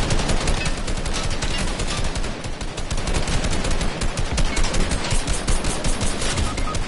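Video game gunfire rattles in dense, loud automatic bursts almost nonstop, the rapid shots crowding one another with barely any pause.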